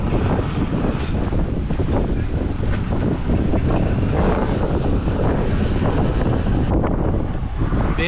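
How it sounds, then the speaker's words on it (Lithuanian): Strong wind of about 20 knots roars across a boat lying at anchor off the Dominican Republic, a continuous loud buffeting rush with waves sloshing beneath it. "Vėjo pučia 20 mazgų,"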